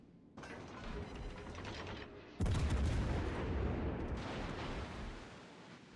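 Heavy naval gunfire from battleship guns in a naval video game, a sustained loud rumbling barrage with a sharp, stronger burst of blasts partway through, continuing to the end.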